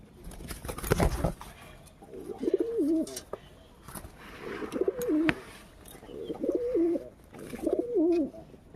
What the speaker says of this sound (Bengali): দেখো আমার কুলে কত পায়রা চলে এসছে, তোমরা সবাই দেখো।